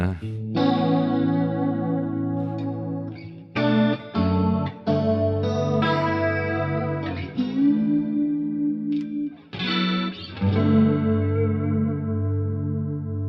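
An electric guitar, a Fender Junior, plays sustained chords and notes drenched in chorus, echo and slight distortion, producing a lush, swirling ambient wash with short pauses between phrases.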